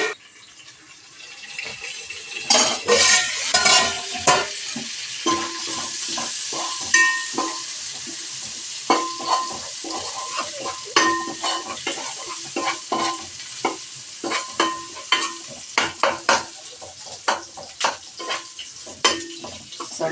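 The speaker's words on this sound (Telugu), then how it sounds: "Sunday special chicken వండుతున్నా" Chicken cooking in a pan at home for a Sunday meal, a steady sizzle under repeated scraping stirs and clinks of a utensil against the pan, loud and close with no speech.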